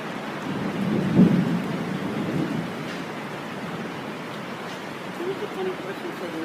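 Thunder rumbles low near the start of an outdoor thunderstorm, then rain hisses steadily on surfaces throughout, with a voice heard faintly near the end.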